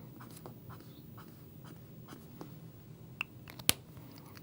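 Pen drawing checklist boxes in a B6 Stalogy paper planner: quiet, close scratchy strokes in short bursts, ending with a couple of sharp little taps, no talking.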